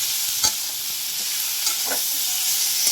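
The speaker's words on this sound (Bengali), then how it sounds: "এটা আমি নাড়িয়ে দিলাম।" Kalmi greens frying in a pan sizzle steadily while a spoon stirs them, with a few scraping knocks against the pan over about three seconds.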